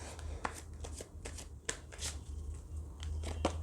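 Lenormand cards being shuffled by hand in a quiet room, a run of soft papery riffles and light slaps with a steady low hum underneath, no talking.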